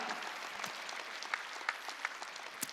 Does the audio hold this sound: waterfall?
no